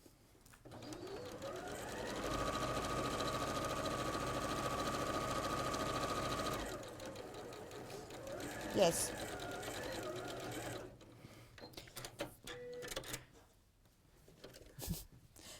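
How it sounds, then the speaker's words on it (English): A sewing machine runs steadily while stitching a quarter-inch seam, a continuous motor whir lasting several seconds before stopping, with people talking over it throughout. "Make sure you sew accurately, because you're going to be sewing several pieces together."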